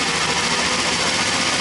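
A Triumph ignition on a 1969 Triumph Daytona T100R, spun at camshaft speed by an inverter-driven motor, gives a steady, loud, even mechanical whir with a fast buzzing hum and no variation, close and alone without talk.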